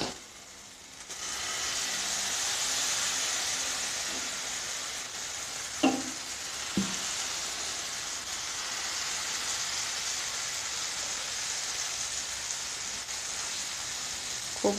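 Suji cheela batter sizzles steadily in a pan over low gas, a soft continuous frying hiss with a couple of brief clinks or taps partway through.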